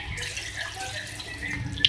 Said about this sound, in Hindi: इसमें 1 कप पानी ऐड करेंगे।